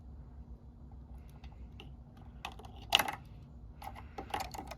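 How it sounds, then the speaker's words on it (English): Wire cutter snipping the sensor wires at a car battery connector on a 2013-2017 Honda Accord V6, faint handling clicks building to a sharp snip near three seconds and a few more clicks after. "Now we're gonna cut the wires. So get your wire cutter."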